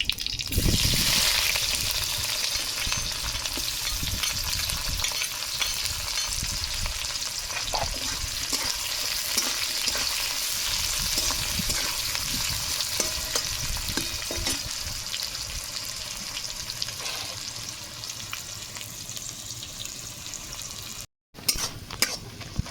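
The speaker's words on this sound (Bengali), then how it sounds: "পেঁয়াজ প্রায় হালকা ভাজা হয়ে আসছে" Finely chopped onions with a pinch of whole cumin fry in a pan with a loud, steady close-up sizzle, while scattered scraping stir strokes run through the twenty-odd seconds.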